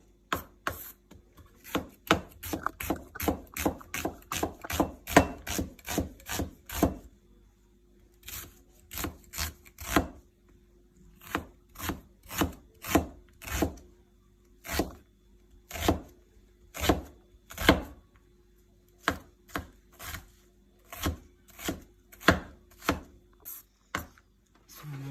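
A knife chops onions rapidly on a cutting board, first in quick bursts, then in slower, evenly spaced strokes, close and crisp with no talking.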